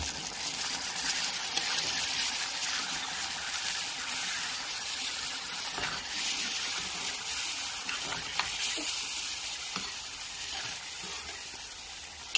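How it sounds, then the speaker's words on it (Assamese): Meat curry with potatoes simmering under a lid in a pot with a little added water for gravy, giving a steady broadband sizzle and bubbling hiss throughout, with a few faint clinks and no talking. "মাংসখিনি অলপ সময় সিজিবলৈ দিছোঁ।"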